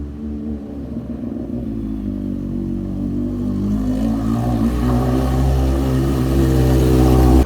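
A Smart car, modified as a sleeper and just repaired with a newly bled clutch system, runs on a test drive with its engine droning steadily and loud, rising gradually in pitch and volume as it accelerates.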